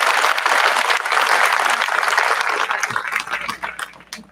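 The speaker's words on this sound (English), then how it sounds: "So one more round of applause," An audience at an 8th grade promotion ceremony breaks into a loud, full round of applause that holds steady, then thins out into scattered last claps.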